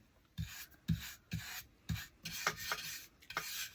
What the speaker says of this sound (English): I'll buff it some.